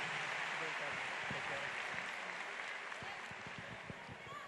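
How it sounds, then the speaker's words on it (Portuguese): A church congregation applauding, a dense, even wash of many hands clapping that holds steady and fades slightly toward the end, heard from a distance with a voice faintly beneath. "Eu quero que vocês aplaudam Jesus pela vida dele."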